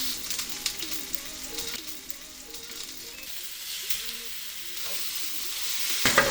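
A steak's fat cap searing in a hot oiled cast iron pan on high heat: a close, steady sizzle and crackle with soft pops, continuous throughout and alone.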